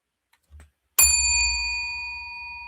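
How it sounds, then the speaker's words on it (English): A single bright bell ding strikes loud and clear, its metallic tone ringing out and slowly decaying over a low hum, with a faint thump just before it. "There's the ding."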